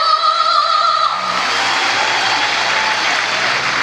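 A crowd in an arena applauds and cheers for performers at a gospel music concert, a dense, loud roar of clapping that swells in after a brief whistle-like tone and then holds steady.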